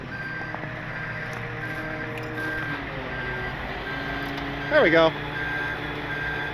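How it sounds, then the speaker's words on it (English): A 15,000 pound septic truck idles nearby while a steady electronic warning tone sounds, and a person speaks briefly during the manoeuvre. "Go ahead and put it in reverse"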